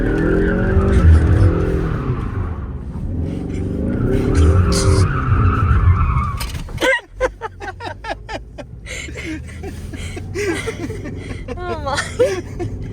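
A turbocharged Mustang with traction control off does donuts, its tires squealing and skidding in rapid bursts after a stretch of revving engine, with people chuckling and talking nearby.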